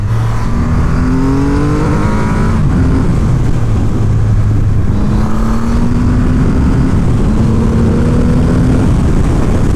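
A 2020 Triumph Rocket 3 motorcycle accelerates hard, its loud engine note rising through gears in long sweeping pulls with a brief shift drop, heard close with strong wind roar.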